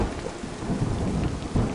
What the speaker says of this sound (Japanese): 車軸を流すがごとく雨が降り出して、おびただしい雷鳴が轟いた